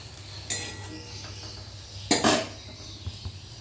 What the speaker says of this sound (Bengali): পাঁচ মিনিট মতো এই মশলাটা কিন্তু আমি কষবো